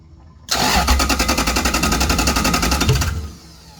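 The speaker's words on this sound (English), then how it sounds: "Let's give her a crank here. I'm going to switch on ignition, and she should start right up." A Toyota 2UZ-FE V8 on a 2001 standalone setup cranks briefly, then catches and runs with a loud, rapid, even pulsing idle for about two and a half seconds before shutting down abruptly.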